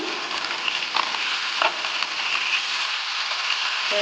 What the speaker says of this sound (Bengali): মাছ ভাজিলোঁ গৰৈ